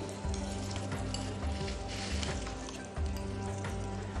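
Fish frying in a pan while butter is spooned over it, a continuous sizzle and crackle with a few soft bumps of the spoon, moderately quiet and without talking.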